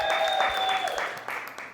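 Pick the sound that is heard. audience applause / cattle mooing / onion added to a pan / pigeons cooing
audience applause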